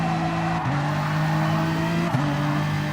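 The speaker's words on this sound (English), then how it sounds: "Cars are starting to slide out in turn 4 a bit." Race cars in a sim racing game's GT championship slide through a turn, with a steady engine drone and sustained tire squeal that shifts pitch twice as the cars slip.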